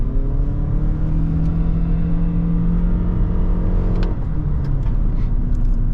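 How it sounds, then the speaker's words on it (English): A Lexus NX450h+ plug-in hybrid SUV with a CVT accelerates hard at full throttle in sport mode. The engine drones loudly at a constant high rev under a steady rumble heard from the cabin, with a slight shift in pitch near the end. "This car has a CVT gearbox, so we'll just be up in the rev range when I punch the throttle."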